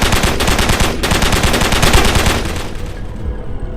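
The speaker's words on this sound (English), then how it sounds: "blasting into it with his machine gun" Rapid machine gun fire bursts continuously for several seconds, loud and close, a dense rattling stream of shots with no talking.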